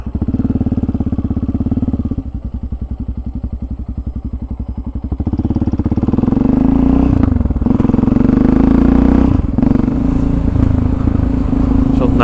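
A motorcycle rides through green woods, its engine first chugging in a fast steady putter, then swelling into a louder, sustained drone as it pulls away, close and prominent throughout.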